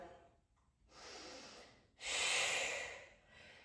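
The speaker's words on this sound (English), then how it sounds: "Find that Pilates breath here." Pilates breathing during a floating tabletop hold on a mat: a softer inhale followed by a louder, forceful exhale, close up and alone.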